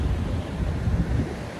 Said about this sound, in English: Quite a strong gust of wind there.